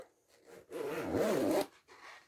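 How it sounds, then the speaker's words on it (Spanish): A zipper on a handmade fabric project bag with a window is pulled open in one smooth, close zip lasting about a second, with soft fabric rustles just before and after. "Ahora, ¿qué hacemos? Abrimos la cremallera"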